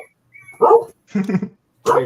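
A dog barks and yips in three short bursts, close and loud, with whimpering tones mixed in during an indoor livestream.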